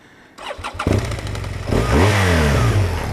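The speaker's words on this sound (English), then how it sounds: "However, I'll start her up. It says BMW R1200 when you start it." A BMW R1200 motorcycle cranks with a short whirring starter, then catches and settles into a close idle before a couple of quick revs rise and fall.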